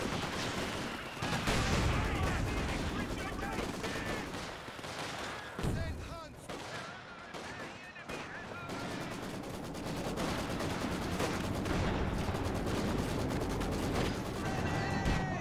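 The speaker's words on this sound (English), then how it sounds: "It's the first Stuka barrage." Stuka rocket barrage from a Company of Heroes 2 battle, a dense rolling stream of loud blasts and crackling gunfire with a brief lull near the middle, mixed with game clutter.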